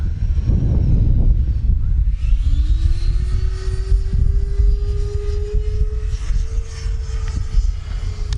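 A Freewing F/A-18C Blue Angels RC jet with a 90mm electric ducted fan makes a full-speed pass into the wind. Its loud, steady whine climbs in pitch over a constant rush of wind, and no one speaks.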